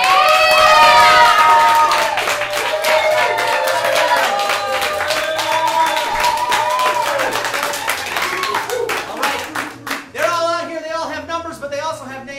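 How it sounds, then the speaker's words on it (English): A live studio audience at a game show claps, whoops and cheers as the players walk on stage, loud dense applause with shouts and excited voices that thins out toward the end. "Give it up for the players."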